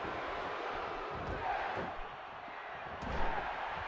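A wrestling crowd in the WWE 2K video game roars and chants continuously at a steady, fairly loud level, with scattered thumps from the ring underneath.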